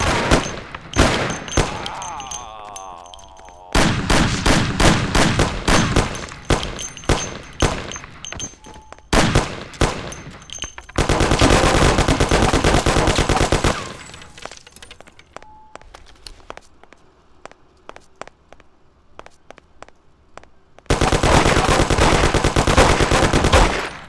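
Machine gun fire in the video game Mafia, long loud bursts of rapid automatic shots separated by quieter gaps, with single cracks and clattering in between.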